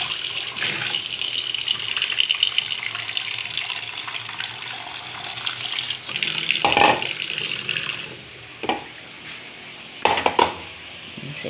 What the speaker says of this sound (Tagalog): Saka natin lagyan ng tubig.